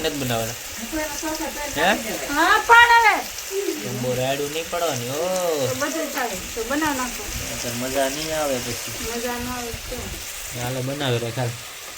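Bottle gourd halwa frying and being stirred in a pan, a steady loud sizzle under repeated scraping stirs, with someone talking throughout.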